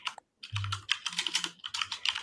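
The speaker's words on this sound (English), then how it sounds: "Damn, someone's typing." Typing on a computer keyboard, a quick run of close, light key clicks in an irregular rhythm after a short pause, heard alone.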